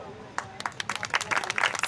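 A crowd at a Buddhist Dhamma Vijay Diwas cultural celebration breaks into scattered clapping that quickly builds into dense, loud applause with sharp individual claps, while voices carry over the top.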